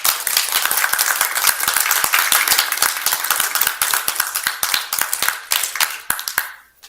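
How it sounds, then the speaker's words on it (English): Scattered applause from a small group at a commission meeting following a vote, a few minutes of uneven hand claps that taper off and stop near the end, with no voices over them. "It's impolite to applaud for yourself"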